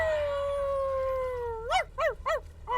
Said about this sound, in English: Why is he barking at them?